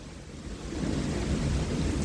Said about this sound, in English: Big wind gust, big wind gust.